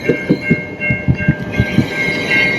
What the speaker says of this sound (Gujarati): ટ્રેન હમણાં આવી જશે